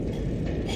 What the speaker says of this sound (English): very much sounds like a big ship's engine.